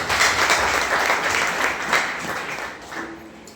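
A church congregation claps in praise, a loud, dense wash of many hands near the listener that holds steady, then gradually thins and fades toward the end.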